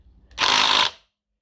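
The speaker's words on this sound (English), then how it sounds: "I will just use my 1/2 inch impact for this smaller one." A 1/2 inch impact wrench works on a screw of a BMW ZF S5D manual gearbox, one loud, close, half-second hammering burst that stops abruptly.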